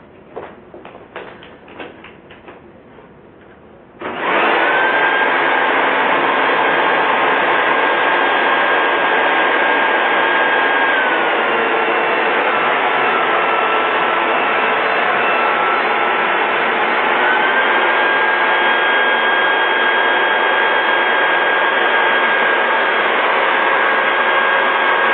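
A leaf blower roars to life after a few seconds of low sputtering, then runs at a loud, steady, unbroken whine right up close for the rest of the clip.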